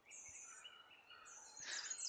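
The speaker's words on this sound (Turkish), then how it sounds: "Şu kuş susmuyor mu?" Faint, high bird chirps and tweets from a video game's ambient soundtrack, a few short calls that swell into a brighter trill near the end, with no voices present.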